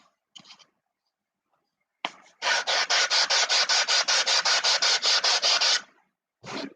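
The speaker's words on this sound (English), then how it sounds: "Don't want to sand that too much." Sanding wood on an aircraft turtledeck under construction, a fast run of rhythmic rasping strokes close by, bracketed by a few shorter isolated scrapes, with no talk.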